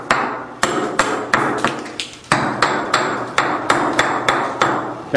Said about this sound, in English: beating up the material on the wood using the razor part of the slag hammer